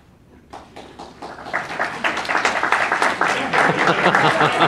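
Audience applause for a university ecology and evolution lecturer, starting after a quiet half second and building into dense, steady clapping from a crowd that stays loud to the end.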